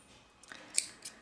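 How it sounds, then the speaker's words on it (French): Scissors snipping crochet yarn on a gingerbread man amigurumi, a quick close snip followed by a second fainter cut in a quiet room. "je vais couper le fil"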